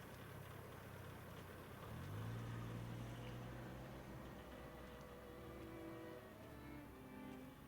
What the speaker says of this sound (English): It sounds like an outboard motor